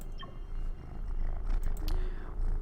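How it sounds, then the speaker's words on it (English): A young kitten purrs steadily in a low, continuous rumble close by, fairly faint, with a few small clicks and rustles over it. "If you hear a rumbling in the background, that would be my new kitten"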